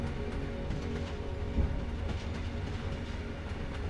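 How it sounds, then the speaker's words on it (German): A steam train climbs slowly through snowy hills, giving a steady low rolling rumble with soft rhythmic clacks of the carriages, even and continuous with no voices. "Langsam dampft der Zug zu einer Hügelkette hinauf."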